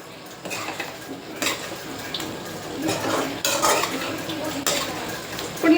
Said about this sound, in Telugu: నీట్గా దీన్ని మిక్స్ అయితే చేసుకోవాలన్నమాట